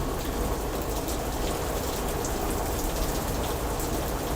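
Rain pouring steadily at a Giants versus Diamondbacks baseball game, a dense, even hiss of drops on surfaces, loud and unbroken throughout, with no voices.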